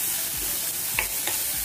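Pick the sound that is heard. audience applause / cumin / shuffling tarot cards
cumin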